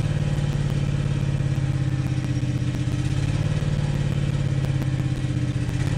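Lawn mower engine running steadily after a cold start on full choke with the primer bulb pressed, a loud, constant close-up idle with mechanical clatter and no talking.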